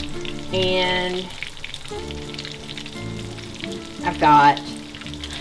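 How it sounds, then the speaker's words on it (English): Chicken cutlets for chicken Milanese fry steadily in a pan with a close, continuous sizzle and crackle that swells and fades, while a voice speaks briefly over it. "So I'm going to cook them on one side, flip them over."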